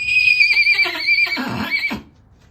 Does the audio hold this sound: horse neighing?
yes